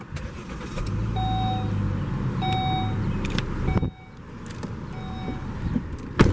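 Key going into a 2012 Volvo S60 T6 AWD sets off a steady, close chime of repeated beeps inside the cabin, over a low engine hum with no talking.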